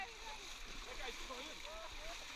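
Water splashing during elephant bathing at a jungle sanctuary in Chiang Mai, a continuous wet rushing and sloshing with excited voices talking and calling over it.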